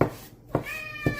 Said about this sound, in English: My cat Charlie agrees with what I'm doing.